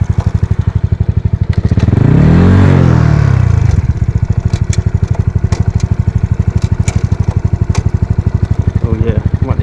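A 143cc Honda Wave 125i underbone motorcycle engine revs hard up to a loud peak and drops back to a rough, fast idle, close by with a steady clattering pulse; a voice speaks briefly.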